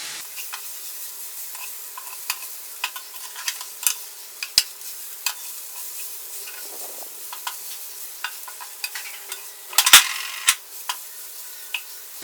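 Prawns with onion and curry leaves frying in a pan, a soft hiss beneath repeated sharp taps and scrapes of a spatula stirring against the metal.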